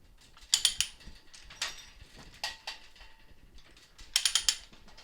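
A trolley's chain mechanism is wound by hand, giving short bursts of sharp ratcheting clicks in three clusters with quieter mechanical rattles between, close and fairly quiet.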